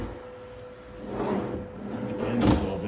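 A bathroom drawer slid open or shut with a soft, brief wooden rumble and a light bump at the end, close by and quiet.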